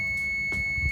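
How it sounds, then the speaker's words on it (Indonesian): A multimeter in continuity mode gives a steady, faint tone while probing a short on an LG TV circuit board, lasting under a second with light handling clicks. "ini ketika diukur terjadi beep. Berarti ini ada yang short"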